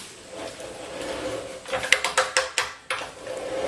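A pipe cutter bites into a pipe held in a vise, giving a run of sharp metallic clicks and scrapes that grow louder and land at a steady rhythm after a quieter start.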